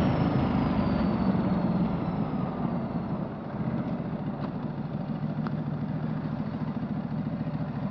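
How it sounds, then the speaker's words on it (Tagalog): A motorcycle engine idles steadily as it warms up in Los Angeles, a low, even rumble close by with no voices. "Gusto ko lang talaga mapainit tong motor natin"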